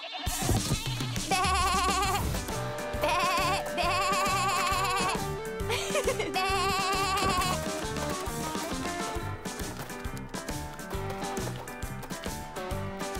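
Goats bleat from a farm pen in an animated Barbie cartoon, their wavering cries rising over loud, busy background music throughout.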